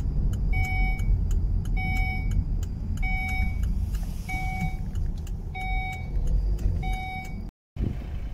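Volvo V60 D4 Summum Geartronic estate rolling slowly into a dealership lot after a test drive, low engine and road rumble inside the cabin with a repeating electronic chime beeping at steady intervals.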